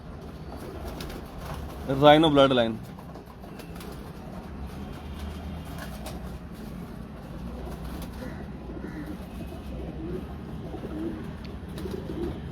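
A breeder pigeon gives one brief, clear coo close by, then only a steady background murmur remains while someone talks over it.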